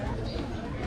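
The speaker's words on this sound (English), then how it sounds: "So here we have trumpeter pigeons from Germany." German trumpeter pigeons coo in a brief, low, rolling burble, close and muffled, heard against a noisy background in a garden aviary.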